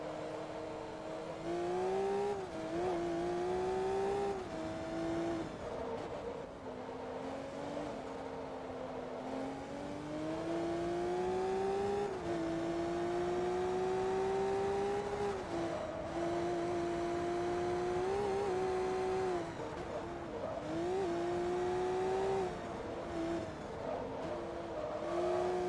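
A high-performance race car in Forza Motorsport 2, its engine note rising and falling steadily through gear shifts and throttle changes, loud and continuous throughout with faint tire noise.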